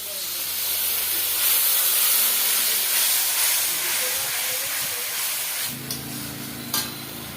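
Water poured into a pan of frying ganga fish curry with drumsticks sets off a loud, steady hiss of steam and sizzle, followed near the end by a few stirring clatters and knocks.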